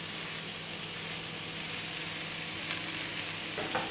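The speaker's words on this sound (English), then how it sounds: "we're just going to fry this off in batches in the fry pan" Flour-coated beef frying in batches in a pan, a steady, soft sizzle of hot oil running throughout, with a few faint clinks near the end and no talk.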